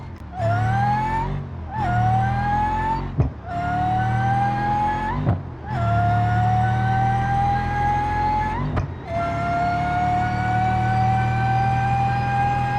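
Simulated car engine in a driving video game, revving hard in sustained high-pitched bursts with brief drops between gear changes, loud and continuous until the engine blows up.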